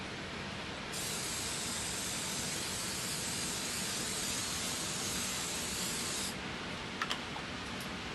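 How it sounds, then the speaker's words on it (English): Non-stick cooking spray hisses steadily onto a frying pan for about five seconds as a frittata is prepared in a kitchen, a close, loud continuous spray followed by a few small clicks. "I'm going to give this pan a good spray with non-stick spray just to make sure the frittata doesn't burn or stick too much."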